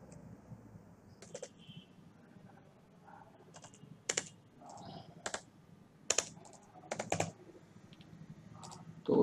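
Keys tapped on a computer keyboard while entering text in Photoshop, irregular bursts of close, crisp clicks with short pauses, no voice.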